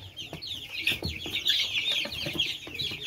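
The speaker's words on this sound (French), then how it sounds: "des poussins de presque poulettes. Des poussins de trois semaines, quatre jours, vingt-cinq jours." Kuroiler chicks about three to four weeks old cluck and cheep together in a pen, a steady, busy chatter of overlapping calls at close range.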